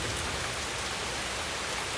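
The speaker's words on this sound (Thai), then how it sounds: "ฝนตกแบบนี้ก็อากาศเย็นสบาย" Rain falling outdoors in a natural setting, a dense, even hiss of drops heard alone and at a constant level.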